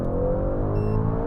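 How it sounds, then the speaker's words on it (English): A 900 HP carbon-bodied car accelerates hard with wheel spin, giving a loud, sustained engine roar that stays even and close for about a second with no talking. "I think I just had wheel spin."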